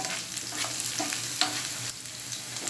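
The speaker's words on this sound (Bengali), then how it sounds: "এখন একটু ভালো করে পেঁয়াজটাকে ভাজা ভাজা করে নিচ্ছি।" Sliced onions frying with salt in a pan for a long bean and egg stir-fry, a steady close sizzle with soft stirring scrapes and light crackles throughout.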